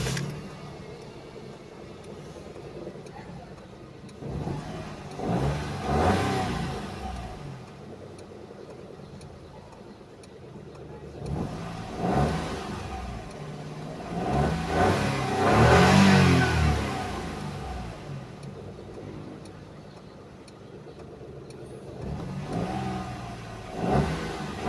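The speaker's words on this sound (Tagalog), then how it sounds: "Engine start." A Toyota Wigo engine with a check-engine-light fault tied to spark plugs and ignition coils idles roughly, then revs up and settles back down in about three distinct surges, heard up close with no talking.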